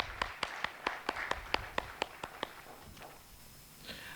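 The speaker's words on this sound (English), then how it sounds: "Everyone, a big round of applause for them." Audience applause for a speaker at a financial-services leadership talk: about a dozen crisp, evenly spaced claps that thin out and fade after a few seconds.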